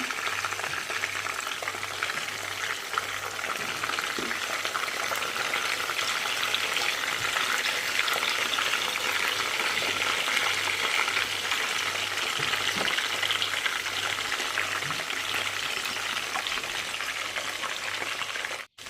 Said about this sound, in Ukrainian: Так, пожарилися на другу сторону і готові котлети забираю геть